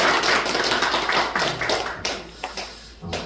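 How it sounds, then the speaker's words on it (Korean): A church congregation at a Sunday morning service applauds, a dense, loud wash of many hands clapping that thins out and fades over a few seconds. "자, 우리 경례의 박수로 부탁드립니다."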